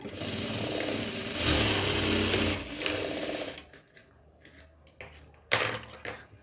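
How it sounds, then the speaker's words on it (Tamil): A sewing machine runs steadily while stitching the lining of a chudithar top, a continuous loud whir that drops into short intermittent bursts near the end. "இப்போ அதே மாதிரி கால் இன்ச் அளவுக்கு ஸ்ட்ரைட்டாக ரெண்டு ஸ்டிச் பண்ணிக்கலாம்"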